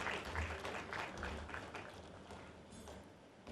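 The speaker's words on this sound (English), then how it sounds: "Let's welcome her with a round of applause." Audience applause welcoming a panelist at a business meeting on the future of food, faint, scattered clapping from a room of people, fairly steady for a few seconds and tapering slightly.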